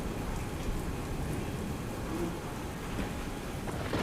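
Heavy monsoon rain pours over farmland in Amreli district, Gujarat, a steady, dense hiss of downpour that fills the whole stretch without a break and with no voices.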